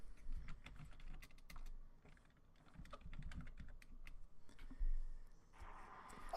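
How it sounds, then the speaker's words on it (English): Someone types on a computer keyboard in a quiet room, an irregular stream of light clicks and key taps with brief pauses, soft and fairly close, with no talk over it. "Yes, the typing returns."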